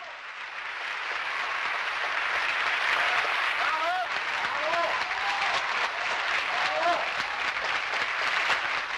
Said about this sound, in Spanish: el público presente en las salas premia la acción de los actores con una ovación cerrada